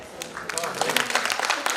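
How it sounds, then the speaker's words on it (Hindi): A crowd claps in a dense burst of applause at a Founder's Day event in Dehradun, close and fairly loud, with some voices mixed in. "जोरदार तालियां"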